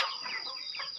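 Chickens cluck softly and at a distance, a short run of quick, faint clucks in a quiet outdoor setting.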